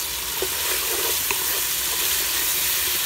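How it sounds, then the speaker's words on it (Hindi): Spice masala for aloo methi frying steadily in a pan in a village-style Pakistani kitchen, with a continuous close sizzle, occasional soft stirring clicks, and no talking. "अभी हम इसको अच्छी तरह भून के मसाला तैयार करेंगे इसका।"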